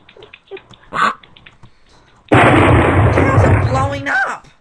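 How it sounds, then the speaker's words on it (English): Cows explode in the video game Milk Panic: a sudden loud, sustained blast erupts partway through after quieter game sounds, then tails off. "Cows are blowing up."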